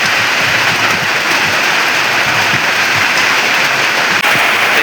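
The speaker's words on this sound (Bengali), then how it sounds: "খুবই বৃষ্টি হচ্ছে, প্রচুর পরিমাণে বৃষ্টি হচ্ছে।" Loud, heavy rain pours down on a jute field in a constant dense hiss, unbroken throughout, with no voices.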